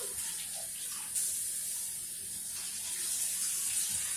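Tap water runs steadily into a kitchen sink while a bowl is rinsed out, a constant close hiss and splash with no talk.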